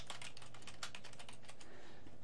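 Quiet, rapid clicking of keys on a computer keyboard as text is typed, a steady run of light taps close by with no one talking.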